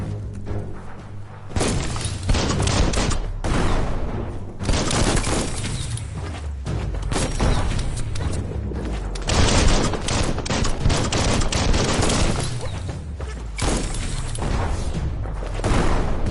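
Repeated loud explosions from a bomb lobber in a video game, a steady run of booming, crackling blasts and shattering debris, several seconds apart, with no voices.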